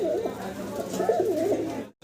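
A pair of High Chila Kaluk pigeons coos in a steady, close, throaty murmur that runs almost unbroken before a brief drop to silence near the end.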